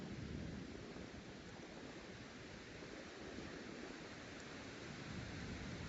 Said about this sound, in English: I'll show you the rest of the waterfall.